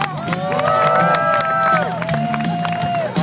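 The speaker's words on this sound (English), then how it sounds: "I want everybody out there to give her a big round of applause for taking care of our team this year." Crowd at a BMX bike show at the Texas State Fair cheering and applauding, loud sustained shouts and whoops over scattered clapping, with people talking amid the noise.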